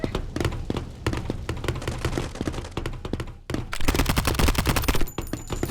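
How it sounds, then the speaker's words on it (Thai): Dense gunfire from the Mini World Royale video game in a gun-duel mode, with rapid bursts of loud, sharp shots crackling almost continuously, a brief lull in the middle and then heavier volleys. "ฉันบาดเจ็บแล้วมีคนยิงฉันอยู่"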